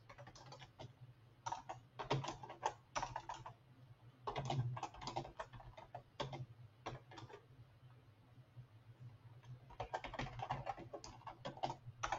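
An address is typed on a computer keyboard in quick bursts of clicking keystrokes, separated by short pauses, close by and fairly quiet.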